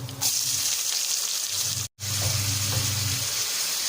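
Onion with mustard seeds and garlic sautéing in hot oil for Tamil-style tomato thokku, a steady loud sizzle that cuts out for an instant midway and then resumes, close and continuous with no voices.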